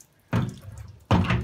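Tap water runs in two short close bursts, the second starting right as the first stops, during a wavy-hair care routine at the sink.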